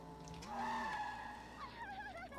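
A taxi drifts and skids in the Crazy Taxi video game, with a rising engine whine leading into a long, sweeping tire squeal that bends and wavers, loud and close, with no talk.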